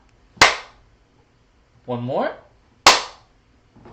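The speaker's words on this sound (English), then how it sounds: "Let's get a sync clap" Two sharp single hand claps for syncing a recording, each a loud isolated crack about two and a half seconds apart, with a brief spoken phrase between them.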